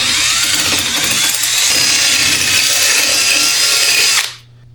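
A power drill bores out a mounting hole to fit new headlights on a CFMOTO, a loud steady high-pitched whine and grind running continuously for about four seconds before cutting off abruptly.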